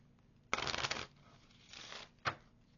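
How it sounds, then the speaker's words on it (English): Tarot cards are shuffled in a quiet room: one long riffle of crisp rapid flicks, a softer shorter pass, then a quick sharp snap as the deck is squared, close and fairly quiet. "Good shuffle."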